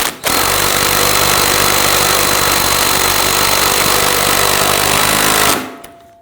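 An impact wrench on the rear suspension of a 2013-2019 Ford Explorer Interceptor snugs down control arm and sway bar link nuts in one loud, continuous rattling burst of about five seconds, stopping abruptly.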